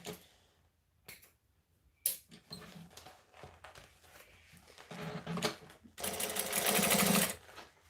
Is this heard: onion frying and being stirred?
no